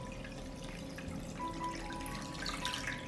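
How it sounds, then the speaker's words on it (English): Water runs and trickles into a deep pot holding glass jars set on a cloth, a steady faint pour with small splashes and drips growing slightly brighter toward the end. "I pour water up to the height of the lid."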